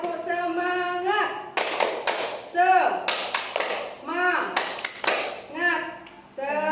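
Group of women performing a rhythmic spirit clap (tepuk semangat), bursts of patterned hand claps alternating with chanted voices, close and moderately loud in a training session.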